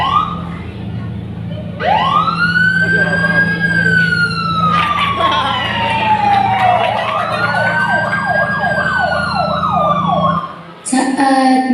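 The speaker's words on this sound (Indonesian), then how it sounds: "Lalu mereka memutar suara sirene polisi." A police siren wails loudly and close, rising and falling in long sweeps before switching to a rapid yelp, over a steady low engine drone, then cuts off abruptly.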